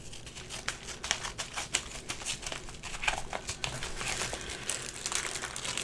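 Blade slicing open a light mailed package, a run of crisp crinkling and scratchy cutting noises through plastic or paper wrapping, close and steady with small sharp peaks, no talking.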